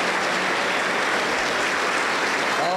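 A Pentecostal church congregation in Huancayo gives a strong round of applause after a women's choir's worship hymn, steady dense clapping throughout.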